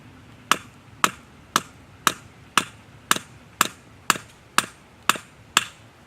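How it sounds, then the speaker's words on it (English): A Spyderco Gayle Bradley 2 folding knife is struck spine-first against a surface, giving eleven sharp, evenly spaced knocks about half a second apart, close and crisp over a quiet background with no talk. "here's a spine whack test with the Spyderco Gayle Bradley 2"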